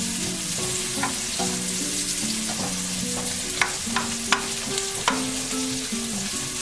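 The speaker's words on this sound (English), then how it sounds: "The onions are going to take a little bit longer, so we'll start them first to get them softened up." Onions fry for fried rice in a pan, making a continuous close sizzle. A spoon scrapes and knocks against the pan a few times, and there is no speech.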